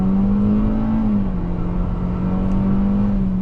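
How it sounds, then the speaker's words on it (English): A Toyota Corolla XSE with a CVT accelerates hard at full throttle, its engine droning loudly at a steady pitch that sags briefly as if shifting, with road and wind noise underneath. "So pedal to the floor, it kind of shifts as if it was a transmission with gears."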